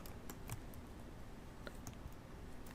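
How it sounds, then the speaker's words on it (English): Brief, quiet bursts of computer keyboard keystrokes, a few scattered clicks over a low background hiss. "I'm going to type in up here brand ball"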